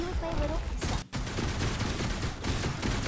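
A gunner class unleashing rapid-fire skills against a boss in Forsaken World 2, continuous dense shooting with a brief gap, loud and busy throughout.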